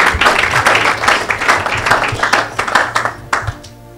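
A church congregation applauds loudly and steadily for Jesus during a worship service, dense clapping from many hands that fills the room and tapers off at the end.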